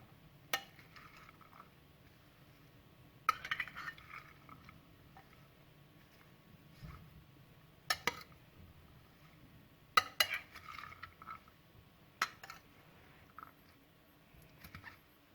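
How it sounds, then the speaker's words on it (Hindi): Chana chaat mixed with chaat masala, salt, green coriander and spices in a bowl: quiet, soft stirring punctuated by a handful of sharp spoon clinks against the bowl, spaced irregularly. "अब इनको अच्छी तरह से मिक्स कर लेंगे।"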